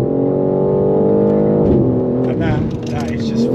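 A BMW M4 Competition's engine revs hard and pulls under acceleration, a loud, steady roar with rising pitch near the end, while people talk over it inside the car.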